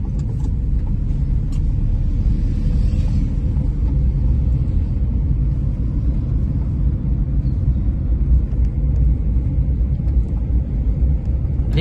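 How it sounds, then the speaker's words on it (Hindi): A manual car drives steadily under a learner's control, its engine humming and rumbling continuously and close up as it accelerates through the gears, settling into fourth gear at about 40 to 50 km/h, with no talk. "अभी अपनी गाड़ी फोर्थ गियर में चल रही है ना"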